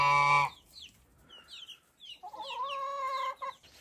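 Several chickens cluck close by on a farm with chicks around, a loud harmonic call opening the clip, then scattered short chirps and a sustained clucking cry near the end, with no talk.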